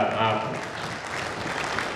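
An audience at a gathering gives steady applause, a dense patter of many hands clapping, louder at the start and easing slightly, with a voice speaking over it.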